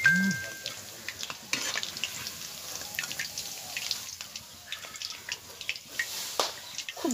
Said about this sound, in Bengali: আমার সব চিকেন পকোড়া ভাজা হয়ে গেছে